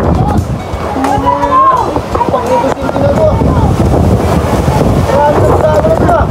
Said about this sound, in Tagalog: kaya sobrang lakas na ng hangin